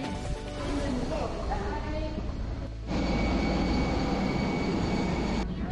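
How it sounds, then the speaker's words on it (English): Steady engine roar and broadband rumble inside an airplane cabin, with murmured voices underneath; the drone briefly dips then returns louder. "We're on the plane."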